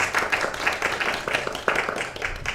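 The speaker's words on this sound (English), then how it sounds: "May we give them a round of applause" Congregation applause at a spiritual service, a modest group clapping with individual claps audible in an uneven rhythm, moderately close and fairly quiet.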